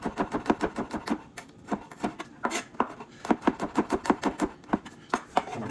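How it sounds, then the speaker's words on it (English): Steady rhythmic knife strokes slice through garlic against a cutting board, each cut landing as a crisp close tap in quick repeated bursts with brief pauses between runs. "I'm gonna go ahead and slice this"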